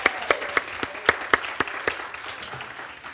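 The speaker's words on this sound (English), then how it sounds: "I think we ought to give a big applause for the organizer here." An audience at a women's group evening event applauds the organizer, a smallish crowd clapping in a sparse, uneven burst of distinct claps that thins out toward the end.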